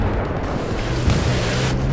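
A heavy explosion in Battlefield 4 rumbles as a dense, sustained boom with deep low-end roar and crackling debris, loud and close, with no one talking over it.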